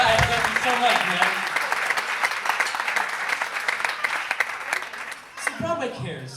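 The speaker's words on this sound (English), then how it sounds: "Give Brian a huge round of applause." Audience applause for a performer named Brian at a Broadway Cares benefit show, a dense sustained ovation of clapping with scattered cheers that thins out near the end as a voice begins.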